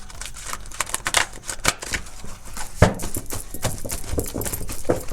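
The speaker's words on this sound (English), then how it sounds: "So I'm going to shuffle this and see what other cards may be relevant to this story." An oracle card deck being shuffled by hand, giving a steady run of papery riffles and taps, close and moderately loud, with no talking.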